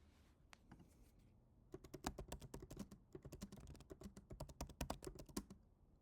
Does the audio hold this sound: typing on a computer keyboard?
yes